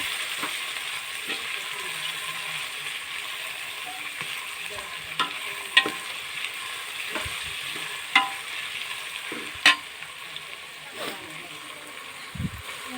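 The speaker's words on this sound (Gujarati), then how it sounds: "ડુંગળીને તળી લેવાની છે." Freshly harvested green onions fry in a pan in a steady, moderate sizzle, with intermittent scrapes and clicks of a spoon stirring against the pan.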